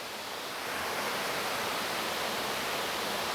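Steady, dense rushing water of a waterfall cascading over rocks into a pool roars continuously, a broad hiss of falling water with no voices or breaks.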